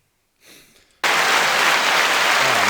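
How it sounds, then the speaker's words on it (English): Canned applause clap track kicks in abruptly after a brief faint rustle, then holds as a loud, dense, steady wall of clapping. "Gotta love the clap track."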